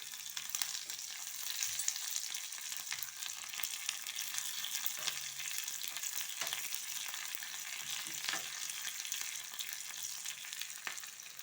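Green chilli and curry leaves sizzle in hot oil for a tempering, a steady close crackle and spit with occasional stirring scrapes, no talking.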